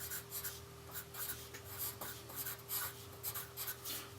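Pencil writing on paper up close, a steady series of soft scratchy strokes in irregular rhythm, with a low constant hum underneath and no talking.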